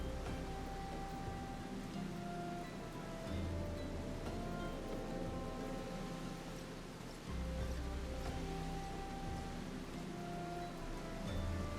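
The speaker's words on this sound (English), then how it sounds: "Okay, so, well, it's raining." Steady rain in Final Fantasy XIV falls as a continuous hiss, with a low rumbling layer that swells and fades. It is fairly quiet and has no talking.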